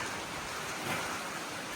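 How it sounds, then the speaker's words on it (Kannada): Steady rain falls, filling the air with an even, close, broadband hiss that holds at a constant level throughout, with no voices over it. "ಮಳೆ ಬರ್ತಾ ಇದೆ ಆಗಲೇ ಎಂಥ ಕೆಲಸ ಆಯಿತು ಮಳೆ ಬರ್ತಿದೆ"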